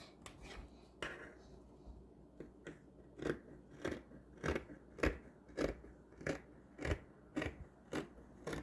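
Scissors snipping through fabric pieces for curved shorts, a series of crisp close cuts at an even, slightly quickening rhythm, roughly a dozen distinct snips.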